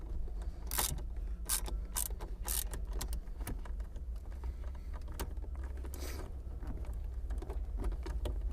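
Ratchet clicking as a Torx T30 screw is backed out from beneath an airbag cover, a close, quiet run of rapid mechanical ticks and pawl clatter with no voices.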